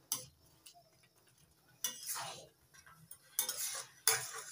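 Dalia and moong dal khichuri stirred in a pot: a utensil scrapes and knocks against the pot in a few separate bursts, close and moderately loud, with quiet gaps between strokes.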